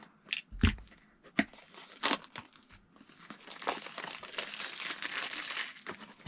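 Packaging of a Hobbywing XR8 SCT speed controller being opened, with close crinkling, crumpling and tearing of plastic and cardboard in irregular bursts, followed by steadier rustling handling.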